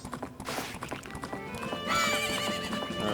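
A horse in the Zelda: Majora's Mask video game gallops with rapid, close clip-clop hoofbeats, then lets out a loud, drawn-out neigh toward the end.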